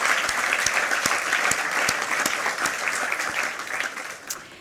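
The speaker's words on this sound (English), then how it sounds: "Let's give her a virtual round of applause." Audience applause at a United Nations HeForShe event, a dense, steady wash of clapping with a few sharp individual claps, fading slightly at the end.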